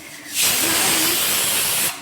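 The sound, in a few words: pressure cooker hissing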